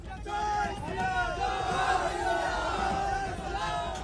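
Thousands of Hindus chanting slogans at a street protest in Falta: a dense, loud crowd roar with many overlapping raised voices shouting in unison, sustained throughout.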